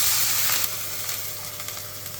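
Ginger and garlic sizzling with chickpeas in a hot pan, a dense, close hiss that stays even for a couple of seconds, with light stirring clicks under it.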